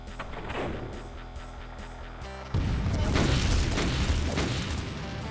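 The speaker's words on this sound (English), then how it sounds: "let's take this guy out with the rocket launcher" A rocket launcher blast in the Mysterious Mansions game lands as a sudden loud boom midway, followed by a sustained rumbling roar over a low droning background.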